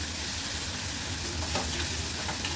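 Onion and chopped tomato fry in a pan for a Kokani-style dried shrimp dish, giving a loud, constant sizzle and hiss, with brief scraping stirs near the middle and end.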